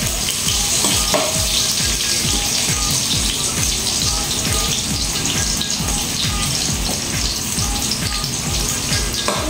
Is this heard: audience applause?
no